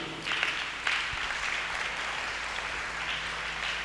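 A church congregation applauds and acclaims God in a sustained, moderately loud wash of clapping with raised voices underneath, swelling in a few places.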